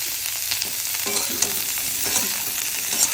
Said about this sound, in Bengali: ফুলকপিটাকে একটু ভাজা করে নেবো করে লাল করে ভাজা হয়েছে